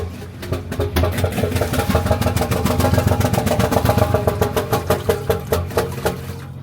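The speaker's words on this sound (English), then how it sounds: "The engine's starting and then it's failing on us." A diesel engine on a 50-ton wooden sailboat runs close and loud with an even, rapid knocking rhythm. The beat slows and weakens near the end as the engine loses power.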